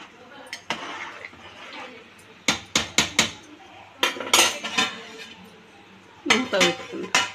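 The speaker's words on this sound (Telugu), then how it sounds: "మూత పెట్టుకున్నా." A lid set onto a cooking pot of rice, sharp metallic clanks and clinks in a few quick clusters, close by in a quiet kitchen with someone speaking softly.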